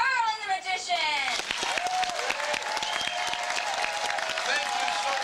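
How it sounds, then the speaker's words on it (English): A theater audience breaks into loud applause welcoming a magician on stage, dense clapping swelling and holding strong, with a voice and a rising musical flourish heard at the start. "Let's bring him on with a thunderous round of applause, Merlin the Magician."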